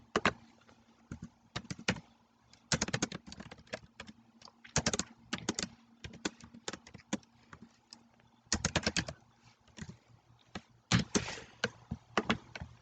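Computer keyboard typing, bursts of crisp, close key clacks arriving in irregular clusters with short pauses between, quiet and alone without talk.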